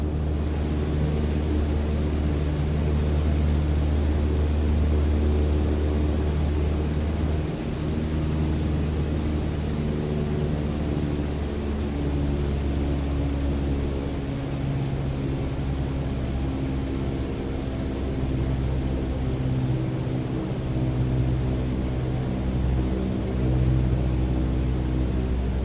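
Light aircraft engine in Microsoft Flight Simulator, reduced to about 1,800 RPM while descending, a steady loud droning hum with even tonal layers over a broad rushing wind noise, unbroken throughout.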